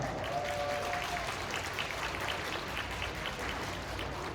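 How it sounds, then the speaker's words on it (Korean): Wedding guests at a ceremony hall applaud steadily as the ceremony opens, a dense, even wash of many hands clapping at moderate distance with no voices over it. "지금부터 신랑 과 신부의 결혼식을 여러분의 뜨거운 박수와 함께 시작하도록 하겠습니다"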